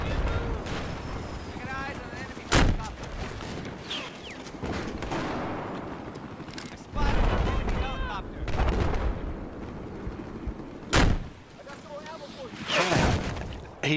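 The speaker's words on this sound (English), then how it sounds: "He's throwing rockets out at me." Rocket blasts and gunfire in Battlefield 4 boom out in several sharp, loud bursts spread across the stretch, with rumbling battle noise between them and a player talking over the action.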